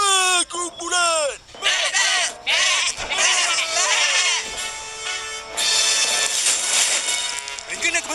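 A herd of goats bleating loudly and repeatedly, overlapping cries coming close together from several animals, mixed with busy background noise.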